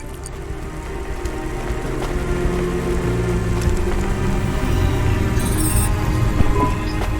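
Steady rain in the Cloudpunk video game, a continuous dense patter that stays even and fairly loud throughout, with no voices over it.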